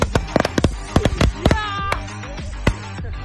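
Firecrackers bursting during a Diwali balloon-popping game, sharp cracks scattered irregularly through the clip, several close together early on and a few spaced later, over light background chatter.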